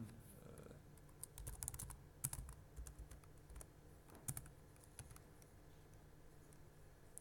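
Fingers type on a computer keyboard in quick irregular bursts of close, crisp key taps, fairly quiet against a low background hum.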